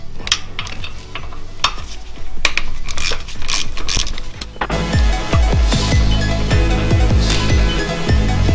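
Bolts on the intake manifold bracket of a Mazda MX5 being removed, close metallic clinks and scraping of tools and fasteners, then a louder continuous whirring rattle with repeated sharp metallic ticks, like a ratchet or power driver spinning.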